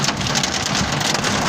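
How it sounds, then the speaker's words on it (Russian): Hail falls heavily, a dense, steady drumming patter of countless stones striking surfaces, loud and unbroken with no voices. "Это град"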